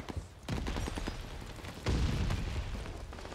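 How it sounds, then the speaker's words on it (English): Mortar and gunfire barrage in the World War II shooter Call of Duty Vanguard: dense, rumbling explosions and rapid shots pile into a continuous loud battle din, with two heavier booming impacts. "Oh, they got the freaking mortars."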